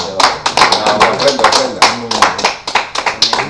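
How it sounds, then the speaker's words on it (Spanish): Close, rhythmic clapping from a church congregation runs throughout, individual hand claps distinct and roughly in time, with voices mixed in underneath. "damos un aplauso a nuestro Abba Yahuwah"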